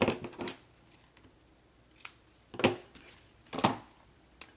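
Scissors trim ribbon while a multi-color bow is being made, giving several short, crisp snips spaced apart at close range with quiet pauses between cuts.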